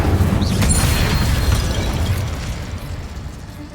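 An Incendio fire spell bursts in Hogwarts Legacy with a loud, close whooshing boom that rumbles and slowly fades over several seconds.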